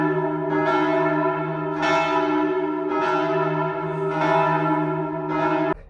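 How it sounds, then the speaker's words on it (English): Church bells of Laon cathedral ring out loud and sustained, with about five rhythmic strikes whose bright, layered overtones hang and overlap between hits. "Laon was also the second cathedral for which I got to hear bells from."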